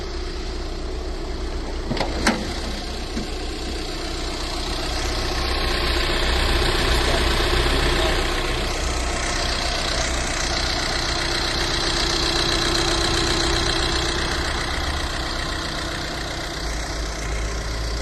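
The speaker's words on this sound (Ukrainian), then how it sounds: "Двигунчик працює просто ідеально." A 2016 Volkswagen Crafter refrigerated van's single-turbo 100 kW engine idles steadily for a long stretch, a loud low rumble with a faint mechanical rattle and a brief click early on.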